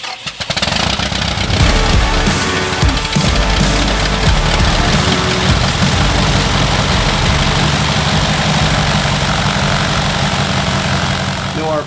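A homebuilt aircraft nicknamed the Bogey cranks into its first start and settles to a loud, steady low idle, with a dense rumbling drone running unbroken for the whole stretch.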